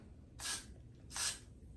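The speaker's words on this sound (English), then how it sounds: "I'm just gonna spray through my lace again." Two short bursts from a spray bottle misting water through a wig's lace frontal, each hissing spritz lasting about a third of a second with a pause between, close and soft with no talking.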